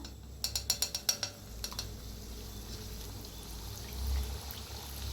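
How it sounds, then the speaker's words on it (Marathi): Shankarpali dough pieces slid into hot frying oil, with a quick run of sharp clicks and pours at the start, then a low steady bubbling that swells slightly toward the end. No one talks. "ह्याच्यात घेतलेलं आहे बघा सावकाश तेलात सोडायचं"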